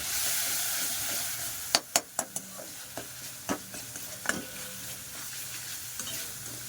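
Dahi chana masala sautéing in a pan after water has been added, a steady sizzling hiss broken by a run of sharp spoon scrapes and taps against the pan.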